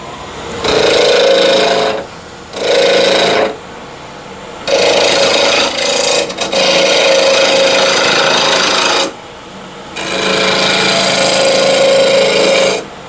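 Wooden twig pot spinning on a lathe and cut with a gouge, giving loud, steady scraping bursts of several seconds each, separated by short pauses, five cuts in all, with no talk.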